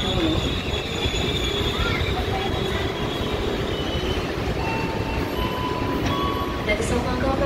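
A KRL commuter train passes on the Jakarta urban railway around Cawang, Tebet or Karet, with a loud continuous rolling rumble and high thin wheel squeals, joined by a faint voice in the background.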